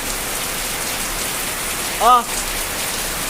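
Heavy rain pours down in a steady, dense hiss throughout, with a brief voice exclaiming midway.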